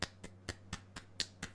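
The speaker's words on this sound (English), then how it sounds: "Golf claps." Light, quiet golf claps: about seven soft, evenly spaced claps in a slow steady rhythm, faint and isolated with no talking.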